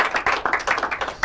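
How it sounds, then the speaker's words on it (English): Warm round of applause at a school debate and quiz competition semi-final, many hands clapping in uneven bursts with no speech over it. "can we give a warm round of applause to all the debaters and participants for today?"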